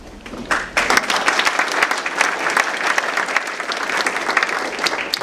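A large audience at a workplace safety convention in an industrial park claps together in agreement, a dense, sustained round of applause with sharp individual claps standing out, fairly loud and without talk.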